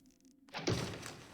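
In the video game Thief: The Dark Project, a single solid thunk as a rope arrow strikes wood, followed by a short rumbling resonance after a quiet moment.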